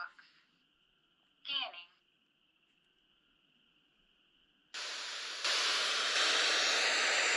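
A spirit box radio scans through channels, producing loud, steady broadband static that starts abruptly after a faint electronic tone and a short voice, then grows louder and continues without a break.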